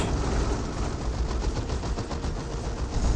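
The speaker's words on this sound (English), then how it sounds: "Firing off another volley there." A unit in Dawn of War 2 fires a volley: dense, continuous rattling gunfire with rapid bursts and low rumble, loud and sustained without pause.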